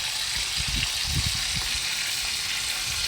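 Pork ribs frying gently in a pan, a continuous soft sizzle with low bubbling and a few dull thumps near the middle, steady and close with no speech.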